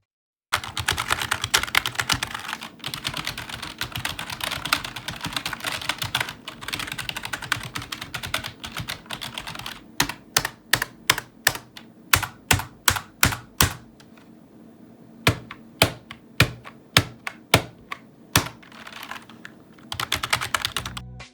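Keys clatter on a very cheap, smelly Chinese plastic computer keyboard, first in a fast continuous burst of typing, then as slower, evenly spaced loud individual key strikes, close and alone with no voices.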